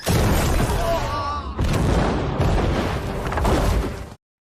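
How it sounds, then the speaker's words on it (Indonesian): Rockets striking a general's residence during a battle scene in a film, with loud rumbling blasts and crackling debris filling the clip, one burst giving way to another before a sudden cutoff, with a voice faintly mixed in. "yang bernama Bobby, mulai menembakkan roket ke arah kediaman Jenderal"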